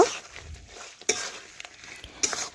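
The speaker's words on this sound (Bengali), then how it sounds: "আর যেটুকু জল আছে আমি এইভাবে দেখুন নাড়াচাড়া করতে করতে কড়ার মধ্যে জলটা শুকিয়ে নেব।" Chicken and potatoes are stirred in a pan over a clay stove to cook off the remaining water, giving soft scraping and occasional sharp clinks of a utensil against the pan over a faint sizzle.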